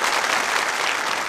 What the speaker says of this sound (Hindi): एक बार तालियां जोरों से बजाइए